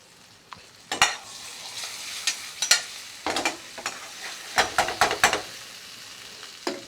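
Beef pieces sizzling in a hot pan for a meat bhuna, with a spoon scraping and stirring in irregular bursts over a steady hiss, close and clear, with no talking.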